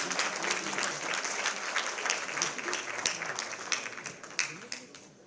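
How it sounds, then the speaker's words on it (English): An audience applauds steadily at a formal interactive session on Delhi's development with the Lieutenant Governor of Delhi, the claps forming a dense continuous patter with a few sharper individual claps standing out near the end. "Please keep the claps coming."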